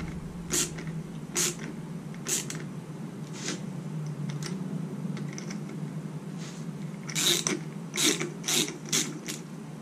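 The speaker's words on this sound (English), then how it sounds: "I'm just going to chase the threads" A ratchet wrench clicks in close, repeated bursts while a tap chases rusty bolt threads on a Jeep TJ, with a steady mechanical hum underneath.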